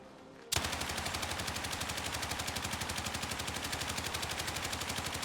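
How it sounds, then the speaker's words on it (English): Light machine gun firing in a video game, a sustained fast burst of evenly spaced shots that starts abruptly after a quiet moment and continues loud and steady to the end. "Then we got the LMG. The LMG is crazy, of course, but actually down sights, it's not that bad."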